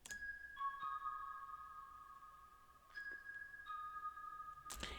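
Soft vibraphone-style bell synth from a Layers sound bank in FL Studio: quiet, mellow sustained bell notes shifting between a couple of pitches, with two soft re-attacks, alone against faint background noise.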